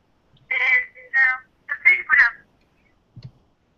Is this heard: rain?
no